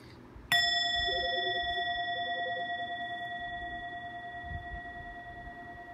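A Buddhist ceremony bell struck once during an online refuge ceremony, a sharp metallic strike followed by a long, steady ringing tone that slowly fades, with faint talk underneath.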